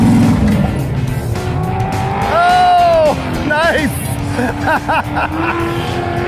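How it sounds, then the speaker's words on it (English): A rear-engine mini truck runs on a race track, its engine revving loud and continuous with rising and falling pitch sweeps and tire squeal, while people speak briefly over it. "the engine is sputtering, it's coughing, and ultimately it just shuts off."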